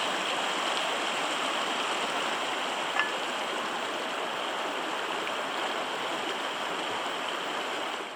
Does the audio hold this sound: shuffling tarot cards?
no